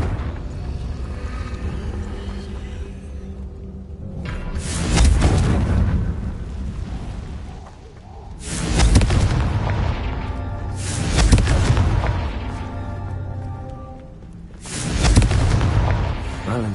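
Confringo fire spells burst in Hogwarts Legacy, four heavy booming explosions spaced a few seconds apart over a continuous background rumble.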